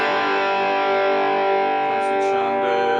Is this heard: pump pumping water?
no